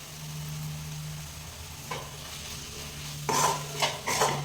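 A spoon stirs chilli and coriander powder masala in a pan for carrot rice, giving a low scraping rustle and a few sharper metallic scrapes and taps toward the end, close and alone over faint background hum.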